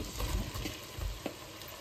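Onions frying in a pan ahead of carrots being added, a steady close sizzle with occasional stirring scrapes and soft knocks.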